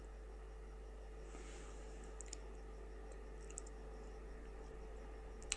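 A computer mouse gives a few faint, sharp clicks, spaced a second or more apart, against a quiet room hum with no talk.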